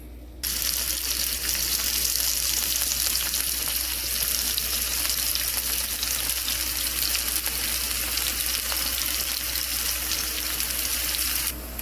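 Egg scramble ingredients sizzling in olive oil in a single pan, a loud, steady, close crackling hiss that runs unbroken throughout.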